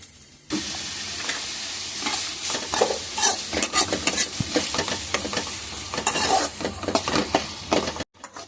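Three medium tomatoes and ginger-garlic paste hit hot oil in a pan for a dry fish curry, sizzling and frying steadily while a spoon stirs and scrapes close by, with no voices.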